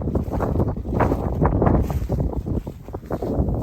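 Wind blows over a soybean field, a gusty, continuous low roar that buffets the microphone steadily throughout, with no one talking.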